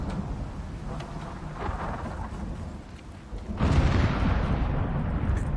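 Thunderstorm weather in the open-world survival game Icarus, with continuous rain hiss and a deep rolling thunder rumble that swells loudly partway through, no voices.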